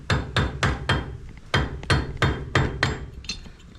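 A hammer strikes a chisel head against the front wheel bearing of a 120 series Toyota Prado, giving about ten sharp, loud metallic blows in a fairly steady rhythm, close up with no talking.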